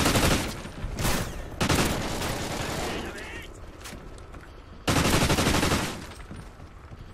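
Gunfire in the video game Warhawk, loud sustained automatic bursts close by, fading mid-clip, then a fresh hard burst near the end.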